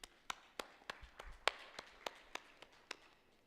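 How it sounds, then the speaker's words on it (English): Sparse, quiet hand claps from a few people in the audience at a crypto conference session, about a dozen distinct claps in an uneven rhythm, with no talking. "Everybody, please join me in a huge round of applause for Mr. Jason."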